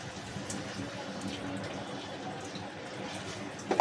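Milk pours into a pan of cooking carrot halwa with a faint, steady liquid trickle, ending in a couple of small clinks near the finish.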